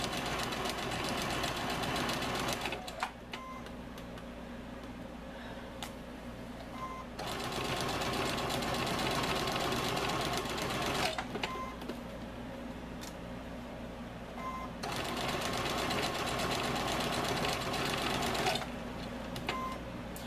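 A sewing machine sews a quarter-inch seam on an oven mitt, running close and even in three long stretches separated by brief pauses.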